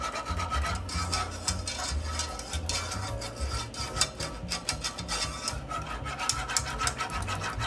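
A spoon or whisk rubs steadily through a clumped flour mixture as chicken broth is worked in, a continuous scraping and rasping with quick repeated strokes.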